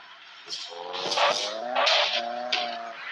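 A Tofaş car's engine is running for an off-road outing, rising and falling in a few revving swells, heard from inside the car at moderate loudness.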